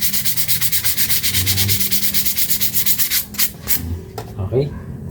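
Sandpaper of about 300 to 400 grit rubbed back and forth over a front brake part of a Toyota Innova 2.8, fast rhythmic scratchy strokes, close and loud, slowing and breaking up toward the end.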